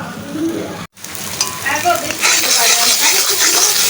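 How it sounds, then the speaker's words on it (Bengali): Pointed gourd peel mash fries and is stirred in an iron wok, giving a close sizzle with scraping stirs. There is a brief dropout just before the one-second mark, and the frying grows louder and more crackly afterward. "আমি লোহার কড়াইতে নিয়েছি এভাবে ভাজতে ভাজতে হবে"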